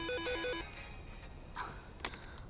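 A telephone rings with a short electronic ring, a repeated warbling tone at the start, then fades into quiet room noise with a couple of faint clicks.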